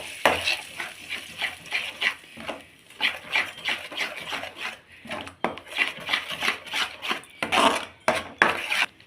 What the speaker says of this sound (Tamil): இப்போ இதை நல்லா வதக்கி விடலாம்.